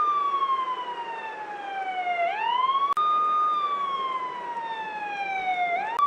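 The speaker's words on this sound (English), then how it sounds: "Obviously an ambulance." An ambulance siren wails continuously nearby, its pitch sliding slowly down then sweeping back up in long repeating cycles, alone without voices.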